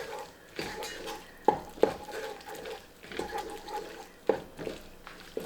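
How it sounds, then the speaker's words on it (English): Chili powder, oregano, salt, smoked paprika and cumin are stirred into chili in a pot, giving soft scraping and occasional sharp clinks of a spoon against the pot, at close range with brief pauses between strokes. "We'll stir this up a little bit."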